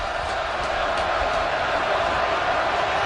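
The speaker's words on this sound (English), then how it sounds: "Crowd coming up on its feet." Steady, dense roar of a football stadium crowd at a Patriots–Ravens NFL game in Baltimore, swelling slightly as fans rise before a third-down play, continuous and enveloping without distinct voices.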